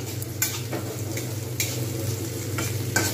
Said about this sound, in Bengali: এটা কিন্তু ভালোভাবে লাল করে আমি সুন্দরভাবে ভেজে নেব।